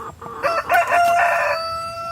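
A rooster crows once, loud and close, its harmonic cock-a-doodle-doo rising and holding before trailing off, with no talk around it.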